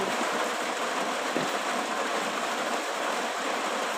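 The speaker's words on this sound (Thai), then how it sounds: "ฝนตกแย่ๆอยู่" Heavy rain pours in a dense, steady hiss, loud and unbroken throughout with no voices.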